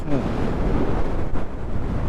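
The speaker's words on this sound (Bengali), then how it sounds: "এখানে মারাত্মক হাওয়া চলছে।" A strong mountain wind gusts through the dry Kali Gandaki valley on the road to Muktinath, Nepal, a loud, continuous roar buffeting the microphone close up, with no voices.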